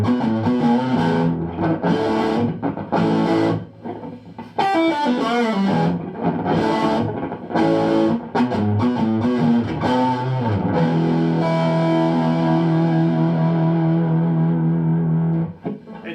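A high-gain electric guitar plays through a Panama Loco Royale amplifier, with heavily distorted chords and riffs broken by short pauses before a long sustained chord rings out, loud and close.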